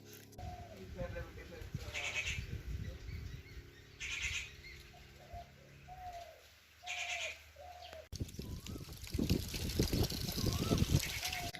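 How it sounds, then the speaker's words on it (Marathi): An Asian koel calls repeatedly from far off in quiet Konkan countryside, short faint hooting notes repeating at steady intervals, with other birds and a person talking over it. "कुठून तरी असा दूर कोकिळीचा आवाज कानी पडतोय कोकिळ आहे तो"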